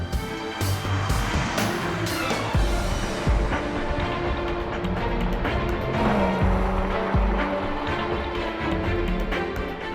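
Roding Roadster sports car powered by a BMW six-cylinder turbo engine, driven hard with a continuous roaring exhaust, gear changes and some tire squeal, loud and close throughout.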